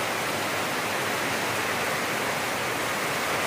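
Floodwater from a creek rushing during Typhoon Kristine, a steady, dense roar of flowing water, loud and close, with no voices.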